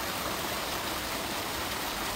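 Open-air sewer channel in Paraguay flowing toward a waterfall into the Paraná River, a steady broadband rush of water, continuous and moderately faint, with no talk.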